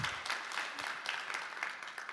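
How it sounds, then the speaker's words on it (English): Audience applause at the close of a business conference session, a soft, distant patter of scattered clapping from a modest crowd, faint and brief, fading slightly toward the end. "Round of applause."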